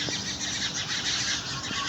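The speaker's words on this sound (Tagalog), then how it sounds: "ang ganda ng sounds ng mga ibon" A dense chorus of birds chirping and twittering in the distance, a continuous bright chatter with no one talking.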